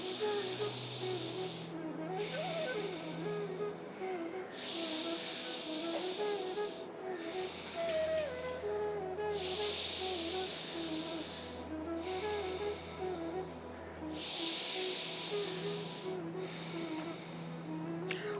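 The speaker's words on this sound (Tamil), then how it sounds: "இடது நாசியில் மெதுவாக மூச்சை உள்ளெழுத்து மெதுவாக மூச்சு வெளியே விடுங்க" Slow, drawn-out breaths in and out through the left nostril during a yoga breathing exercise, heard as repeated soft airy hisses every few seconds over gentle background music.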